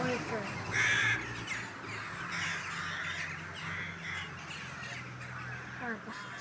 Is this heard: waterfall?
no